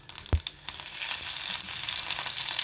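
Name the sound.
mustard seeds and cumin sizzling in hot oil in a kadai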